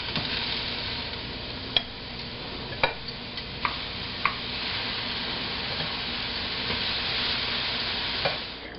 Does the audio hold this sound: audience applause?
no